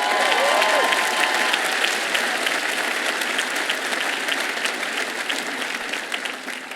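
A commencement crowd applauds loudly for the host town, dense sustained clapping that fades slightly toward the end, with faint voices mixed in.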